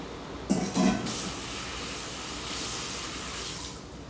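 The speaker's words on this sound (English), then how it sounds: "I'm just going to step off a second and rinse my hands" Hands being rinsed under running tap water in a home kitchen, heard as a steady, soft hiss of flowing water after a brief clatter at the start.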